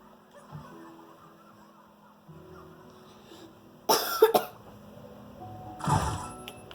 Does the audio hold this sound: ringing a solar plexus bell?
no